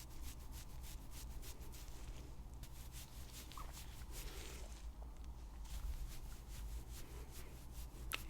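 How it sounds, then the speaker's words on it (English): Soft, faint scrubbing with a small scrubber during an ASMR lice-check treatment, a steady rubbing texture with a gentle rhythmic pulse and no talking. "Kind of like a little scrubber."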